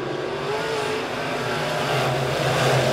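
B-Modified race cars roar around a dirt oval at Springfield Raceway, engines droning loud and continuous as the pack runs side by side down the backstretch.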